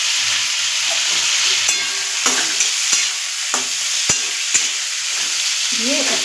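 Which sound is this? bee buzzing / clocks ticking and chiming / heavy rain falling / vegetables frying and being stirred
vegetables frying and being stirred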